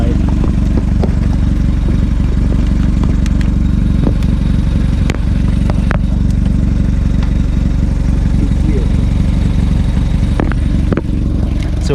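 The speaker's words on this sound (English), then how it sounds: "Yeah, it has an exhaust leak too." A 2002 Hyundai Elantra engine idling with an exhaust leak, a loud close rhythmic chugging putter with ticking and occasional clanks, running steadily throughout.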